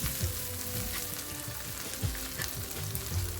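Chorizo sizzles steadily in a hot pan, rendering its grease with a dense, even crackle and small pops, close and alone with no voices.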